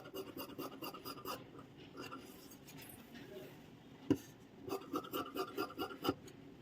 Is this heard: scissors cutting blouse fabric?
yes